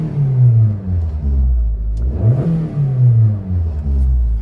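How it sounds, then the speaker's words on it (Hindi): A 2017 Maruti Swift's engine runs and revs, a loud low rumble with a rising rev swell in the middle before settling back to a steady throb. "प्रॉपर गाड़ी हम स्टार्ट कर देते हैं, गाड़ी स्टार्ट हो चुकी है"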